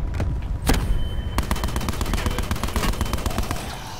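Hip-fired automatic gunfire in Call of Duty: Black Ops 4 gives a loud single shot, then a rapid unbroken stream of shots with a dense, even rhythm.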